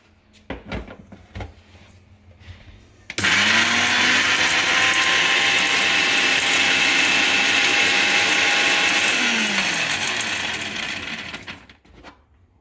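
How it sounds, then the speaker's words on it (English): A few sharp knocks, then an electric grinder grinding dry spices roars on loudly for about eight seconds, whirring steadily before winding down and stopping. "you have to grind it in the grinder"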